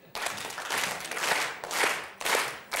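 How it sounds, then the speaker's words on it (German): The women in a 1986 German TV variety-show studio audience clap their hands on cue. The clapping swells and surges in several waves, moderately loud and without talk. "Hände klatschen"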